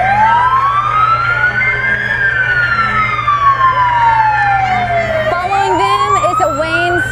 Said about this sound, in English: then up next is the Adkins fire truck